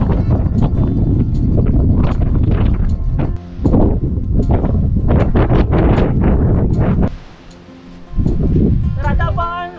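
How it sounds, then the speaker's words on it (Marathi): Strong monsoon wind blows across a fog-covered mountain top on the Nakhind trek in the Sahyadri hills, loud and buffeting in near-continuous roaring gusts, with a brief lull before it surges again. "तर आता आपण फक्त वाऱ्याचा आवाज अनुभवू शकतो."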